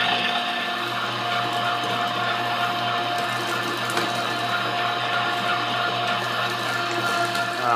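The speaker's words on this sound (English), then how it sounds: "now we're going to grind the pork up right on top of it" A meat grinder grinds pork for venison sausage, a continuous steady motor whine with a strong tonal hum and a faint mechanical churning. The sound is loud, close and unbroken throughout.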